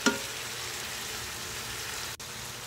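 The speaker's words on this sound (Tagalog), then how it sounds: "Mekos-mekos ulit." Spaghetti sauce with mushrooms stirred in a pan, an even crackling sizzle with soft scraping, close and steady, with a brief bump at the start and a short dip near the end.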